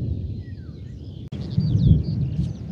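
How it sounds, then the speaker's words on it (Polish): A low rumble of distant thunder rolls during a storm over an open garden plot, a faint low rumble that swells after a brief gap, with birds chirping above it. "Tam grzmi, błyska to,"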